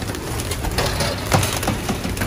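Pigeons coo softly in a loft, several overlapping throaty calls repeating under a steady background of bird chatter and room noise.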